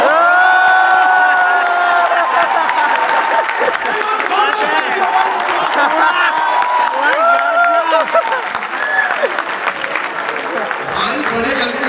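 An audience at an IIT Patna poetry gathering breaks into sustained applause with cheering and whoops, loud and lively, tapering slightly near the end.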